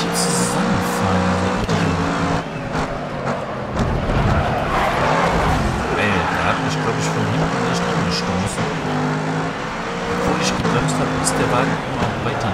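Race cars roar and rev continuously in the GRID Autosport video game, with engine tones rising and falling, occasional tire squeal and impacts, while someone talks excitedly over the racing.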